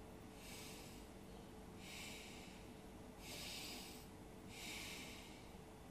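Deep pranayama breathing: four long, steady breaths, each a broad hissing rush of air that swells and fades in an even rhythm, close and alone with no talking.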